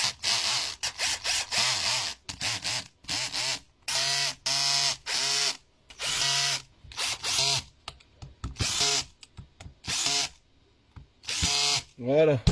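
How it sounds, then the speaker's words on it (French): A cordless Parkside PDSSA20-Li A1 impact driver, modified from a 1/4 to a 1/2 anvil, tightens screws in repeated short buzzing bursts of varying length with brief gaps between them, close up. "Donc là, j'ai plus qu'à resserrer les vis."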